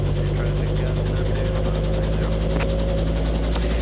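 Robinson R22 helicopter running down at shutdown after the clutch is disengaged and mixture pulled, a loud continuous close-up engine and rotor drone with steady low hum and faint mechanical rattles, no talking.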